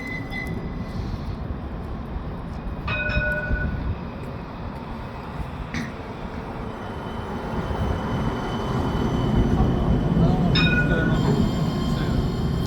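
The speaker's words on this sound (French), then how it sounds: "Le voilà le tram du Sargon." An Alstom tram pulls into the Hauts du Chazal stop with a low rumble that swells as it nears, broken by a few short, sharp wheel squeals and a faint distant voice.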